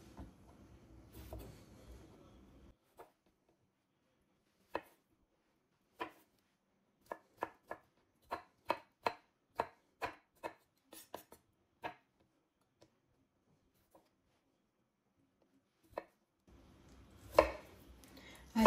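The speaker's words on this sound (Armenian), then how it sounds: "կտրատում ու աղցանի մեջ ենք ավելացնում նաև մարինադացված վարունգը" A knife chops pickled cucumber for a salad, a quiet run of sharp, evenly paced taps on a board that speeds into a steady rhythm, then thins out into a few scattered cuts.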